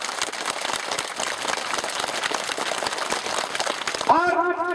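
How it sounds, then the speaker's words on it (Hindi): Church-hall style audience in a village school gathering applauds continuously with dense, fairly loud clapping, ending as a voice begins speaking over it at the close. "उनके लिए भी तालियां बजाएं आप।"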